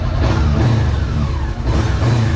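A Honda CBR sport motorcycle engine revs close by, its loud throaty roar rising and falling with a brief dip in the middle.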